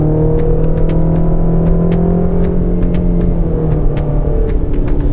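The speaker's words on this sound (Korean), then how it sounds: "근데 이제 4기통 특성이 있다 보니까 시끄러워요." Chevrolet Colorado pickup with a 2.7-litre four-cylinder engine drones loudly and steadily from inside the cabin, a low, gruff hum with faint ticks and clicks scattered over it.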